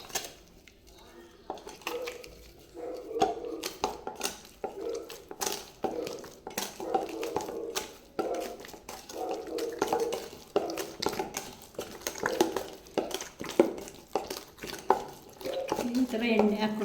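Obbattu dough being mixed with a couple of spoons of oil in a bowl, giving busy scraping, clinking and squishing sounds that run steadily throughout at close range, with no talking.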